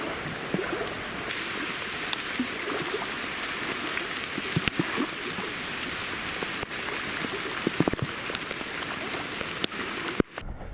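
Steady rain falls on a river during a fishing trip on the Western Dvina, a dense, even patter with occasional sharper drops and clicks nearby.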